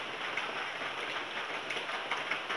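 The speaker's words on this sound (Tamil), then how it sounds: "பாருங்கள் எப்படி மழை பெய்யுது." Heavy rain pours outside a house, a dense steady hiss of drops hitting surfaces, loud and continuous throughout with faint splashy accents and no voices.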